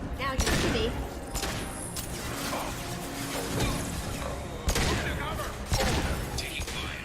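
Game gunfire in a Mass Effect 2 firefight, bursts of shots with crashes and thuds, louder volleys near 0.4 and 4.7 seconds, under continuous combat clatter and brief voices.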